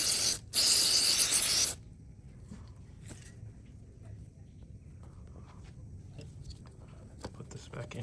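A short, loud hiss of cleaning spray is aimed at the filter of a Paslode CFN325XP cordless nail gun, a brief burst and then a longer blast, followed by quiet handling and faint clicks.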